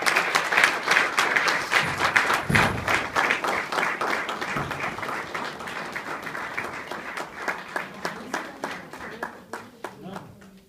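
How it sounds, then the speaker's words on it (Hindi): Audience applause at a Hindi kavi sammelan (poetry gathering) in Sydney, Australia, welcoming a poet to the stage: dense, sustained clapping from a crowd that thins toward the end, with some scattered individual claps. "डॉक्टर कुंवर बेचैन जी का तालियों के साथ स्वागत।"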